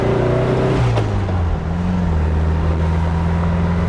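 A 1973 VW Thing drives on a test drive with fixed front drums and a new steering damper, its air-cooled engine droning loud and close as it changes gear and pulls away, with no voices.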